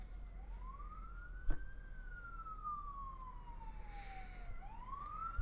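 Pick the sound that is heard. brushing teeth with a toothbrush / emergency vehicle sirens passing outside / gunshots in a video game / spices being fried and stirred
emergency vehicle sirens passing outside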